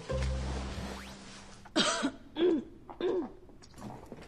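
A person coughs three or four times in short, separated bursts, close and fairly clear, after a quieter stretch of background sound.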